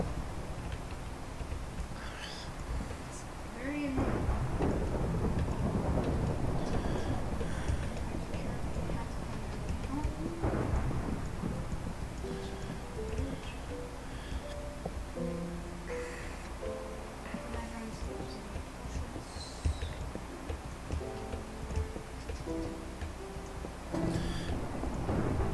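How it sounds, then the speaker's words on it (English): Rain patters steadily in Minecraft while low thunder rolls through twice, with small ticking sounds and soft game tones scattered over the background. "it's raining again. It's always raining in this game."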